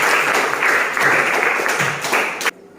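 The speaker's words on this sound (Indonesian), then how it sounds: "aplaus untuk Vira" Classroom applause for a student, a dense spread of clapping hands lasting a couple of seconds before cutting off abruptly.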